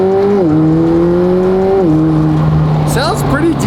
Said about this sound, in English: Sounds pretty decent with the stock exhaust